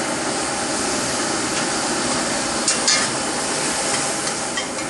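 Soy sauce hitting a hot pan of nilgai pepper steak with vegetables, a loud, steady close-up sizzle with occasional stirring clinks, continuous with no talking.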